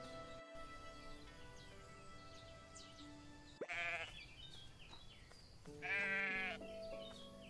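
Sheep in the farming video game Everdream Valley give two distinct bleats a couple of seconds apart over a soft ambient music bed, fairly clear and with no talking.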